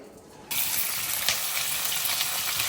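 Whole garam masala spices (cinnamon, cloves, black and green cardamom) hit hot oil in a pan and burst into a loud, steady sizzle after a brief quiet start, crackling continuously up close with no talking.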